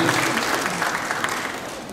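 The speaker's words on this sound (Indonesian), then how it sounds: "Tepuk tangan dulu buat senior kita nih" An audience applauds at a government MoU signing ceremony in NTT, honouring the chairman of the local Islamic council; steady, dense clapping from a crowd fills the room at moderate loudness without a break.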